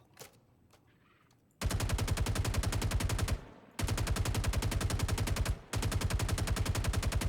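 Sustained automatic gunfire in a virtual reality shooting game, loud and close, in three long rapid bursts separated by brief pauses, with no talk over it.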